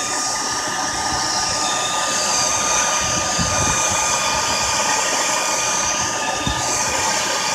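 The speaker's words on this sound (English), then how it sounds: "I'm going to shut off the hair dryer and see what happens." A hair dryer blows steadily on rubber bands during a heat experiment, its continuous broadband whoosh and motor hum holding at an even, close level throughout, with a few faint clicks.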